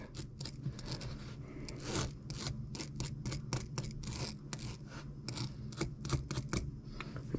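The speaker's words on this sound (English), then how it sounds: "I'm going to go ahead and trim this jagged edge off a little bit" A freshly cast fishing jig has its jagged edge trimmed off. Close, rapid snipping and scraping clicks repeat in an irregular rhythm with no talk.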